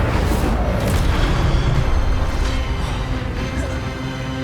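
A fire spell erupts in Hogwarts Legacy, a loud, dense rushing blast with booming low crackle sustained for several seconds, easing slightly toward the end.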